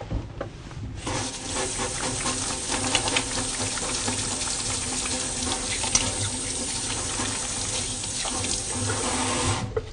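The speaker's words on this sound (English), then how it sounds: "we always wash our hands, so I'm first going to wash my hands" Tap water runs steadily into a sink while hands are washed before a medical examination, a continuous close, fairly loud splashing rush that starts after a brief quiet moment and carries on alone without speech.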